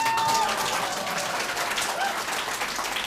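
A crowd at a mayoral candidate's campaign office opening gives sustained, dense applause, steady throughout with faint cheering mixed in.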